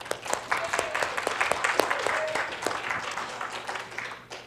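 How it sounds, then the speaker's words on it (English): Scattered, fairly soft clapping from a small congregation at a Sunday church service, individual claps standing out in an uneven patter that fades away. "let's give him a little applause for that."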